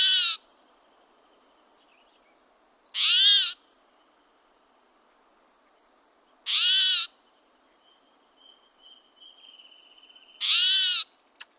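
A recorded bird song played back for identification: four loud, harmonic calls repeat at roughly three-second intervals, with faint thin whistles and soft low noise in the gaps, no voices.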